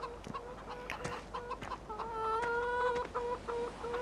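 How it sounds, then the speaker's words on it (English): A chicken clucks in Farming Simulator 15 on PS4, a steady run of short clucks that rises into a longer, drawn-out cackle midway before settling back into clucking, with no talk. "this is the chicken"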